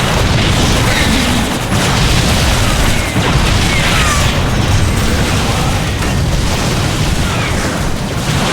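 A bridge control blows up in StarCraft II: Legacy of the Void, a loud, sustained, rumbling boom that fills the whole stretch with dense low roar and crackle, no clear pauses.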